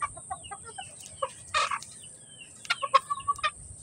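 Chickens, including stags and a hen, cluck in short bursts, a series of close, sharp calls rising toward the end over a low background murmur.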